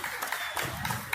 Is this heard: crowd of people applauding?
yes